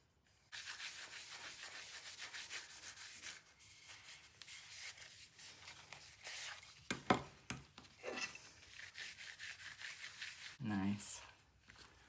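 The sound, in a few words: rubbing beeswax onto a decoupage piece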